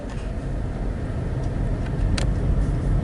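A car rolls along a road near Palatka, Florida, its engine and tyre rumble forming a steady, close drone with a few faint passing clicks and no talk.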